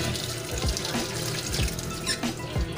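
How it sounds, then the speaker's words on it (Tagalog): Water poured over a freshly cleaned cap runs steadily like a tap into a sink, with a few soft thuds and splashes along the way. "Tapos buhusan mo ng tubig."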